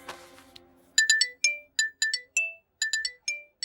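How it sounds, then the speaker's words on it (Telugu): A phone ringtone plays a bright, bell-like melody of short repeated tones in a quick rhythm, loud and alone after a brief stretch of background sound. "నన్ను ఇది ఫోన్ చేసిందేంటి?"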